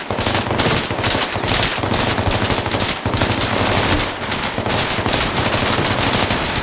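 Sustained machine gun suppressing fire in the tactical shooter game Bellum, a dense, loud, continuous stream of rapid automatic shots with overlapping bursts filling the whole stretch.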